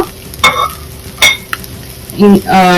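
Prawn and egg fried rice stir-fried fast over high heat, with bursts of spatula scraping against the pan and a steady sizzle, plus clanks of metal toward the end.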